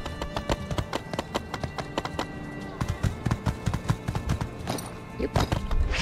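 Horse hooves clip-clop steadily in the video game My Time at Sandrock, a brisk run of close, sharp clattering steps over a light game soundscape.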